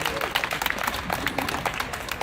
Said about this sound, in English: Give her a round of applause for that answer